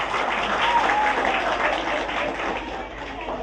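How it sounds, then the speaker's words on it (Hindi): Children clapping together at a village gathering in Nagla Jogiyan, Faridabad, a steady dense patter of applause sustained throughout, with faint voices mixed in. "ताली बजाओ बच्चों।"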